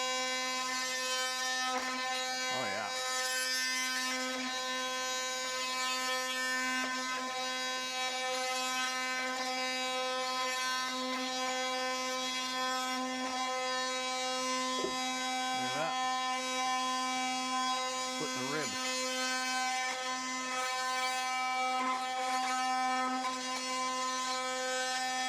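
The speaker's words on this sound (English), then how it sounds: "I'm gonna try and cut these ribs in half with the multi-tool" An oscillating multi-tool cuts through deer ribs, giving a continuous loud buzzing whine with steady harmonic tones and occasional shifts in pitch as it bites into bone, with some voice underneath.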